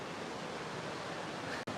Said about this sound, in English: the loud noise you're hearing is the river